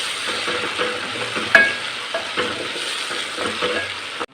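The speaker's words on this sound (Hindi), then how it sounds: "अब इसमें मैं डाल रहा हूँ 2 टेबलस्पून अदरक लहसुन का पेस्ट।" Ginger garlic paste frying with onions in a hot pan while being stirred, a steady close sizzle with scraping stirs throughout and no voices.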